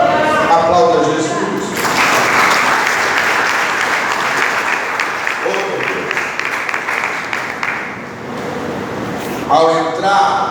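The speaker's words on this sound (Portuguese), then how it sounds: "Aplauda Jesus." A church congregation applauds Jesus during a Portuguese-language sermon, a broad wash of clapping that swells and holds for several seconds, bracketed by a voice speaking before and after.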